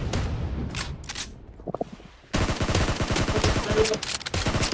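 Gunfire in the mobile battle royale game BGMI: a few scattered shots, then after a pause a dense burst of rapid automatic fire, loud and close, with no talk.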